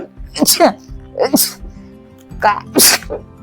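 Repeated sneezes from a person at home in a Tamil-speaking setting, several sharp bursts in a row, close and fairly loud, with a low steady hum underneath.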